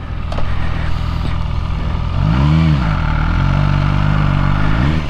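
An MV Agusta Brutale 1000RR sport motorcycle roars loudly up close, its engine note rising and dipping as it accelerates in surges, with a steady rumble underneath throughout.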